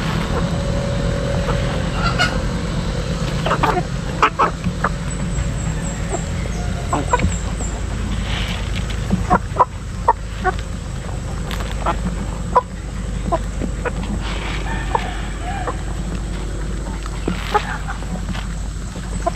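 Rhode Island chickens clucking steadily in a flock, with scattered sharp calls over a constant low hum.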